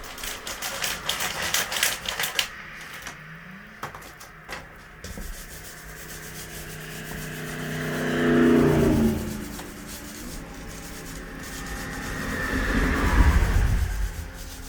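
Grinder working over the rotted floor of a skoolie shuttle bus conversion, late at night, with a harsh abrasive rasp that swells louder around the middle and again near the end, no talking.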